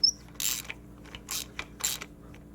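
A socket ratchet clicks as it tightens a spark plug in a 2004 Chevrolet Cavalier. It sounds in three short, close bursts of mechanical ratcheting with brief pauses between them.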